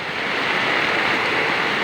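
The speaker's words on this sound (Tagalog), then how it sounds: "Ayan yung flow ng tubig namin dito, oh." Floodwater from a typhoon flowing outdoors near an irrigation channel, a steady broadband rushing wash that stays loud and even throughout, with no voices.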